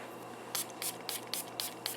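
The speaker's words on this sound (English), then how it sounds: "First you have to start by spraying your stuff with water." A water-filled body mister misting in a series of quick, evenly spaced spritzes, about six short hissing bursts close up.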